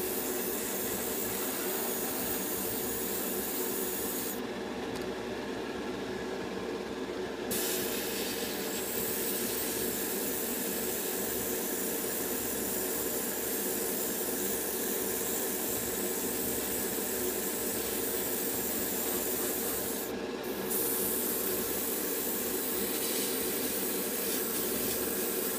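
Airbrush or spray can laying a dark shadow coat onto a Trumpeter 00398 MGS4 Drebin Stryker model kit, a steady continuous hiss with two short pauses, close and alone with no talk.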